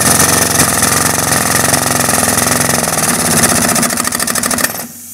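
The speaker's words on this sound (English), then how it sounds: "Press the hose onto the fitting" A Haltec super large bore assembly tool presses a hose onto its fitting, giving a steady, loud mechanical drone with rapid rhythmic pulsing that runs for over four seconds and then cuts off abruptly.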